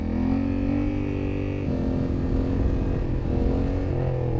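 A 2020 Honda Africa Twin standard manual motorcycle engine drones loud and close with a steady, throbbing pitch as it revs for a wheelie, shifting tone partway through.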